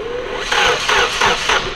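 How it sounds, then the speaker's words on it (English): A Nissan KA engine cranks over on the starter while its timing is being set, a loud rhythmic chugging in four uneven surges close up. "The engine cranks like this"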